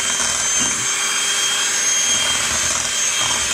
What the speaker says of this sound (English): I'm just going to turn the mixer back on medium.